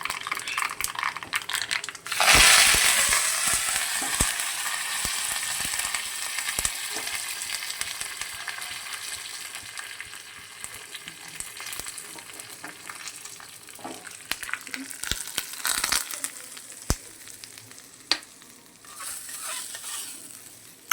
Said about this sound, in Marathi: कडकडीत फोडणी झाली पाहिजे जिराचा आणि मोहरीचा वास छान येतो